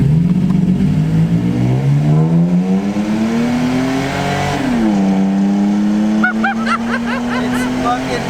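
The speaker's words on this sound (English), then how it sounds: "We're gonna go ahead and do a quick run and see whose truck is faster." Toyota Tacoma pickup trucks, 2016 or newer, accelerating hard side by side in a drag race, loud engine roar climbing in pitch with a shift partway through, then a horn-like tone near the end.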